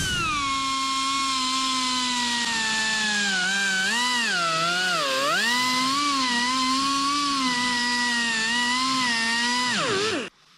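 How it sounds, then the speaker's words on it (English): A die grinder fitted with a reamer bit reams out a rusted hole in the body metal of a 1959 Dodge Coronet, a loud, continuous high whine that dips and wavers under load before spinning down at the end. "I'm just going to start off with my die grinder, a little reamer bit on the end here, and we're just going to kind of ream that hole out"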